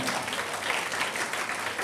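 An indoor audience at a children's Christmas celebration applauds the kids with steady, dense clapping throughout this short moment.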